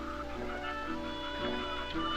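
Hens cluck softly inside a heated winter farm building over a steady, loud hum of machinery or ventilation, their calls scattered and partly buried in the drone.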